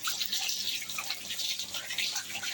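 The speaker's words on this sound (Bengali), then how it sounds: "এই যে স্নান করছে পাইপ দিয়ে" Water runs from a pipe during a bath in an Indian village, a steady, close hissing splash that continues without pause.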